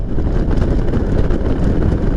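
Strong wind roars and buffets close to the microphone in a constant low rumble, cold wind from snowy mountains during a motorcycle ride.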